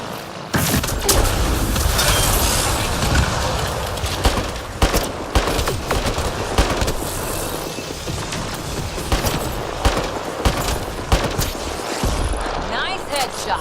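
Rapid sci-fi gunfire from the video game Mass Effect: Andromeda, with dense bursts and sharp shots spread through the whole stretch, loud and close, while a voice talks over parts of it.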